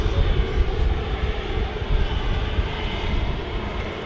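Hainan Airlines Airbus A330 jet engines rumble steadily as the airliner nears the departure runway, a continuous broadband roar with heavy low-end wind buffeting, loud and unbroken.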